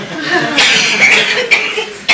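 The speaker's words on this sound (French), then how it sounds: "elle peut un peu tousser" A woman gives a few short, breathy coughs close to the microphone, spaced irregularly across a couple of seconds, mixed with faint chuckling sounds.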